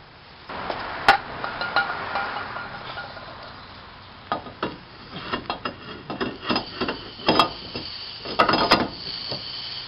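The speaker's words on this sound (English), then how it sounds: "Okay, this is the old rotor. It should come right out." An old brake rotor is worked off the front hub of a 2004 Ford Focus, a series of close metallic clanks, scrapes and knocks with irregular rhythm.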